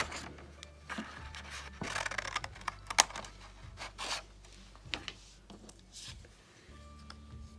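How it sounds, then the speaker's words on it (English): Quick, crisp snips of scissors rough-cutting appliqué shapes from paper, repeated in an irregular rhythm close by, with light rustling and handling between the cuts. "Start by just rough cutting out your shapes."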